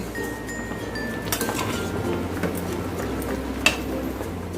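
A plum pickle cooking down in a pot is stirred now and then, giving soft scrapes and clinks of the spoon against the pot over a low bubbling sizzle, with one sharper knock near the end.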